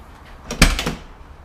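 A car door on a Ford Mustang notchback with a turbocharged 5.0 build swings shut in one solid, close thud, followed by a brief rattle that fades quickly.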